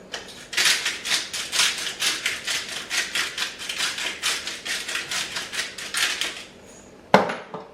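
Salt and pepper are ground over homemade pulled pork slaw with a hand grinder, giving a steady run of close, crisp, rhythmic cracking twists that ends with a sharp knock.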